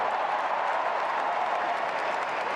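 Sustained applause from a large stadium crowd at the US Open tennis final, greeting an ace by Taylor Fritz against Jannik Sinner, a steady, even roar of clapping throughout with no voice on top.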